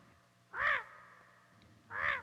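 A crow caws twice, loud and close, with a steady low hum underneath between the calls.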